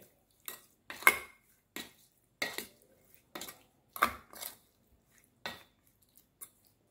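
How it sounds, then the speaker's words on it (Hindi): Prawns being tossed and mixed with salt and squeezed lemon juice in a bowl, heard as a series of soft wet clinks and squishy stirring strokes at an uneven pace, close and alone with no talk. "आणि हे दवडून घेवया, मिक्स करून घेवया।"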